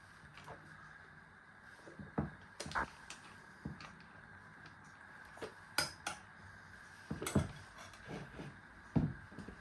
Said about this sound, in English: Give it a little bit of a stir with your fork